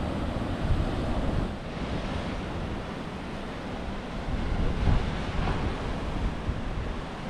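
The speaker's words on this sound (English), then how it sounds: "Very strong waves indeed." Strong ocean waves breaking at a gorge on North Stradbroke Island, Australia, a continuous roaring surf with surges swelling around the start and middle, mixed with buffeting wind noise on the microphone, no voices.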